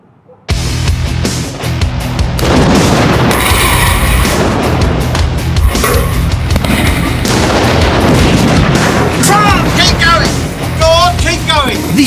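Special effects explosions go off in a staged battle with tanks: after a short quiet start, loud booms and crackling blasts follow in rapid succession under shouting voices, with sharp whistling bursts near the end.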